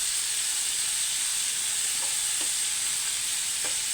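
Steak bites browning in a hot pan give a steady, even sizzle and hiss from start to finish, with a few faint clinks of the pan or a spatula near the end and no voices.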